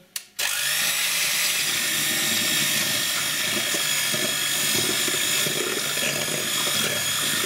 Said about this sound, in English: Beat the eggs, the sugar and the oil together.